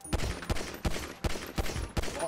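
Pistol shots from the game GTA 5, a run of about seven sharp, evenly spaced cracks fired in quick succession, each a loud broadband burst with short decay.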